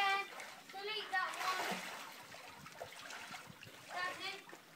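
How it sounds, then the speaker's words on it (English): A child splashes water, sending a short burst of splatter and dripping mixed with children's voices talking and calling out nearby. "I needed to make a bigger splash"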